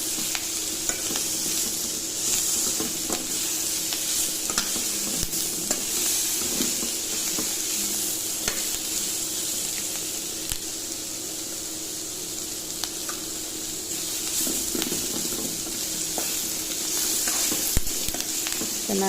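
Ridge gourd and green chillies frying for chutney, a steady close sizzle with frequent scraping stir strokes running throughout, no talk.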